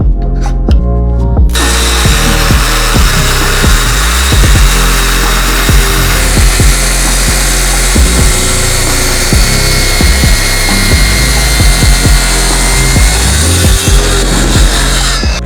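A loud power saw whines continuously as it cuts a wooden workpiece at 45 degrees, pitch dipping and rising under load, with no voices.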